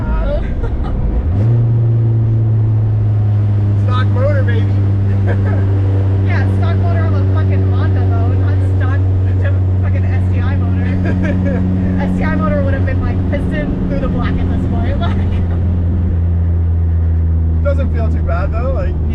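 A K-swapped Subaru STI engine drones loud and close in a long, steady rev that dips near the end, while people talk over it.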